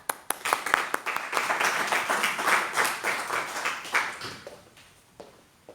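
Audience applause at a church Bible study on Deuteronomy: dense, steady clapping from a room of people that swells for a few seconds and then thins out toward the end, close and fairly loud.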